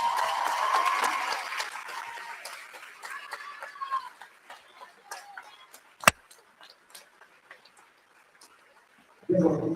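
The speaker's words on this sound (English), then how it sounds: "Put your hands together for Lola Reed." An audience at a school moving-up ceremony at Somersfield Academy claps for a student, the applause fading from a full burst into scattered claps; a voice speaks over the room before a brief fresh burst at the end.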